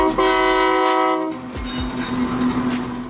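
An oil freight train of tanker cars sounds a long, loud horn, then rolls on with a steady heavy rumble and a thinner, sustained tone under the wheel noise.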